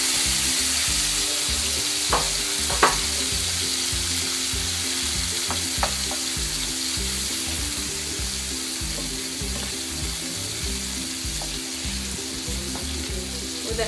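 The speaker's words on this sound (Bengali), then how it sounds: "1 মিনিটের মতন মাছগুলো ভাজবো।" Shrimp frying in a pan for a shrimp bhuna, a loud steady sizzle running throughout with a few small pops and spatters.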